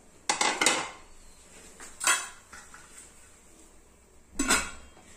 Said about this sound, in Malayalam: ഞാൻ വേറെ ഒരു മൂടിയ കൊണ്ടാണിത് അടച്ചു വെച്ചിരിക്കുന്നത്